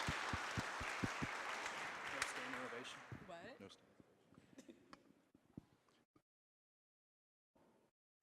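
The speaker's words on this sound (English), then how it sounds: "He likes applause as he walks that long walk" Audience applause at a Safe Streets meeting as Sergeant Dan Wilson walks forward, a loud dense patter mixed with voices in the first three seconds, thinning to scattered claps and murmurs before dying into silence.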